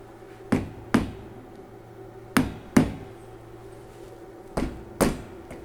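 Sharp metallic taps of a small screwdriver driving a tapered handle tight on a Vevor kitchen utility cart, six distinct close knocks in pairs with short pauses between, no talking.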